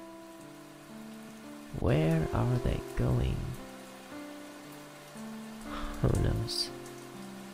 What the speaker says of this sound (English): the rain hides these sounds